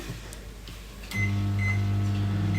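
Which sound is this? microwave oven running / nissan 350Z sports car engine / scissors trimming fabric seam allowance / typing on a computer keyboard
microwave oven running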